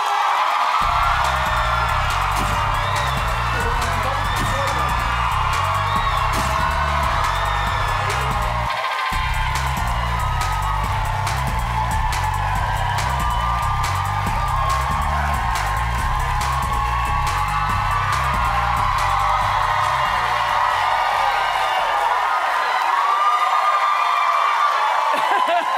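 A studio audience at a daytime talk show cheers and whoops loudly and steadily, a continuous roar of crowd noise with music underneath.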